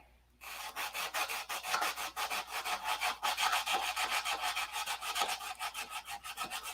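Hand sanding on wood: steady back-and-forth rasping strokes in a quick, even rhythm, close and fairly loud, with no talking.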